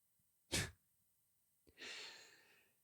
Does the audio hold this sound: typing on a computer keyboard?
no